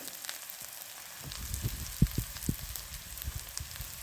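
Onion and curry leaves frying in hot oil in a pan, a soft steady sizzle with a few louder pops and crackles near the middle, no one speaking.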